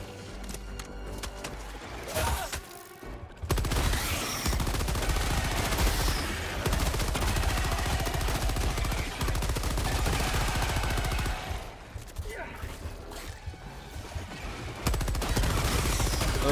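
Machine gun fire in the video game Helldivers 2, long dense sustained bursts of loud rapid shots with brief pauses, layered with heavy battle noise throughout.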